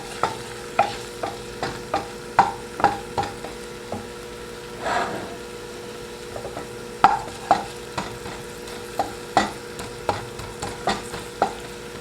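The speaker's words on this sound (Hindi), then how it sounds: "इसको हम थोड़ा सा मिक्स कर लेते हैं ताकि अदरक लहसुन हमारा थोड़ा सा कुक हो जाए" A spoon stirs ginger-garlic paste frying in a pan for keema matar, scraping and clinking in repeated close strokes over a soft, steady sizzle.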